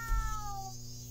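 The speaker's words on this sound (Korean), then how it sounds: "어, 고양이 있네 저기 위에?" A single cat meows once, clear and fairly near, a drawn-out falling cry over a steady low background hum, with no talking.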